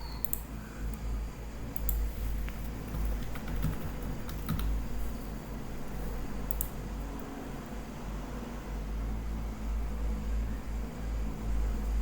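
Soft, steady keystrokes of a password being typed on a computer keyboard, faint and close under a constant background hiss, with no talking.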